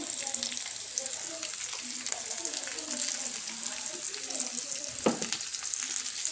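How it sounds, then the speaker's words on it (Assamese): Spices sizzle steadily in hot oil: dried chilli powder, coriander powder and asafoetida for an Assamese sweet dal. The frying is a continuous soft crackle, with a brief clink of a utensil near the end. "এইখিনি মই ভালকৈ ভাজি ল'ম।"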